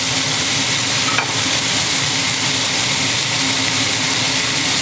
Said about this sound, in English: So I sear them all on in this bread pan very strongly